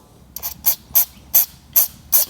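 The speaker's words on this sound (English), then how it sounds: "put some mass airflow cleaner, just spray it out a little bit here." Short hissing spray bursts from a can of mass airflow sensor cleaner on a Duramax LP5 engine part, five quick spurts at a fairly steady rhythm, close and clear with no talking.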